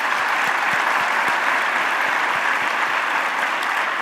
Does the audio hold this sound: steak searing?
no